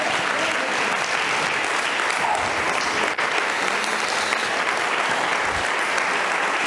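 A church congregation at a pastor's sermon breaks into sustained applause for the Holy Spirit, an even, loud wash of clapping with no break.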